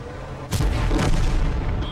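A tank cannon fires in the World of Tanks game, a single loud booming blast at half a second that rolls out with a rumbling tail and lingers to the end.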